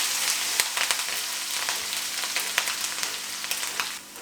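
Cumin seeds and green chillies sizzling in hot oil for sabudana kichadi, a steady crackling fry with small sharp pops scattered throughout, close and with no voices.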